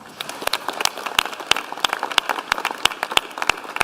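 Applause for athletes at a speech event, a sparse group of individual hand claps in a fairly regular rhythm, crisp and close, about a dozen distinct claps over several seconds.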